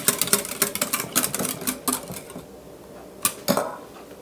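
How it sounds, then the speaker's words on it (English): Whisk clattering against a bowl while beating batter with vanilla, quick irregular metallic taps close up, busier at first and thinning to a few louder clicks near the end. "Whisk this up"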